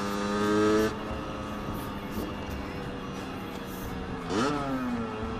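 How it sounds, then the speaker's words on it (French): A motorbike with a stock exhaust and a 12-tooth sprocket accelerates, its engine droning steadily with a loud rising rev near the end, over a constant rushing background. "Ah, j'adore le bruit du pot"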